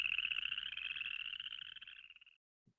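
Chorus frog calling, a rapid rasping trill of repeated pulses, fairly faint and steady, that trails off after a couple of seconds.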